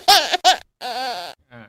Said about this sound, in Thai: มี3 เสียงก็เนี่ยตบมือแล้วก็เสียงร้องไห้เด็กร้องไห้